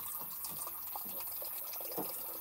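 River water pours steadily through a water filter at close range, a continuous splashing trickle with no talking.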